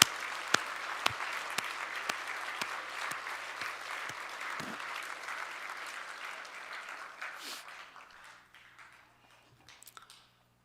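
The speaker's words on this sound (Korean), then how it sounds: "영광의 박수를 주님께 올리겠습니다" A church congregation at a New Year's Eve worship service claps together, sharp separate claps at first settling into scattered applause that thins and fades toward the end, with the room then going nearly quiet.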